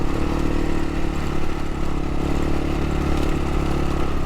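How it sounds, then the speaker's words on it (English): A KLR650 motorcycle rides over a sandy, corrugated desert track on a Simpson Desert crossing, its engine a steady close drone overlaid with hard, continuous rattling and clatter and no voices. "The tracks and terrain change quite fast, becoming very sandy and corrugated, rattling hard and wreaking havoc with the KLR."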